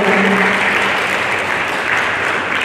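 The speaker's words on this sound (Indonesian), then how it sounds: "Tepuk tangan dong adik-adik sekalian." Loud, dense applause from a young audience as a speaker walks onto the stage at a university event, a continuous wash of many hands clapping close by, with a faint tonal hum early on.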